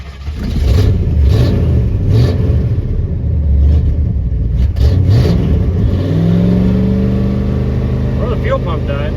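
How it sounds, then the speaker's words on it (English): A 1986 Chevy ramp truck's engine cranks and catches, then revs and idles unevenly while it struggles to stay running, loud and close, with a person talking over it. "See if she'll start and stay running."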